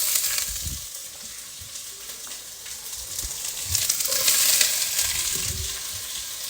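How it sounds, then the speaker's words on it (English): Pork belly sizzles in extra virgin olive oil in a skillet, a soft steady frying hiss broken by occasional low scraping bursts of stirring, quiet and close with no talking. "We are sweating this, so we just have some oil, extra virgin olive oil"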